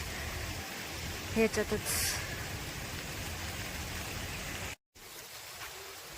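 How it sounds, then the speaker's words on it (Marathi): Steady rain falls near a small waterfall beside the temple steps at Ghoradeshwar, a constant soft hiss all through, with a brief voice speaking and a short dropout near the end. "खरंच पाऊस थांबत नाही"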